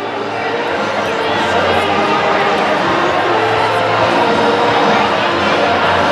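A large crowd gathers at Mesquite Rodeo half an hour before a 5K color run. A dense, loud wash of overlapping chatter holds steady throughout, with no single voice standing out.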